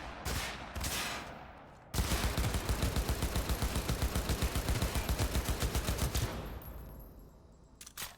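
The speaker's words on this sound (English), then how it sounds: "That was a lot of bullets." Automatic gunfire from the video game Cyberpunk, starting with a couple of heavy shots and then a long rapid burst of evenly spaced rounds that tapers off after about six seconds. It is loud and up front, with no talk.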